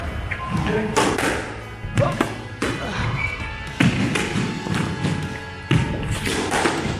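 A squash ball struck with a racket during a game, hitting the court walls with sharp, hollow thuds at irregular intervals, close and echoing, with faint voices in the background.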